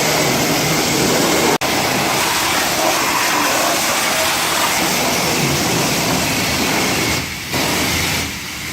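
A pressure washer spraying water across a Nissan Z engine bay, a loud steady hissing roar close by that runs almost without a break, with brief dips in the spray.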